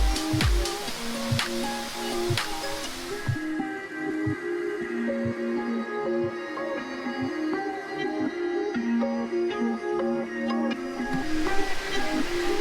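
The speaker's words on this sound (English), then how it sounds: "the noise, everywhere you go is the trickling water or the rushing of water sound" Steady rushing water at Plitvice Lakes, Croatia, a broad continuous wash of falling and flowing water running throughout, with a tonal hum and faint clinks layered over it and no talk.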